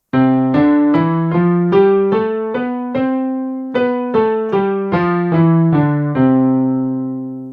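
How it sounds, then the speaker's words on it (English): An ascending and descending major scale played note by note on a keyboard, evenly paced, clear and close, with no talking. "The most common scale in vocal exercises is the major scale,"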